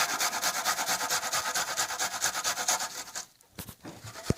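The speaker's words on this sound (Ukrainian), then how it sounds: "Натираємо на ту саму решітку терточку. Цибулин беремо або одну велику, або три невеличкі." Steady rhythmic rasping of onion rubbed across a kitchen grater for beet cutlets, brisk back-and-forth strokes close up, stopping near the end with a few light knocks.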